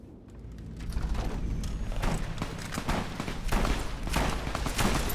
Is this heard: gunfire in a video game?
yes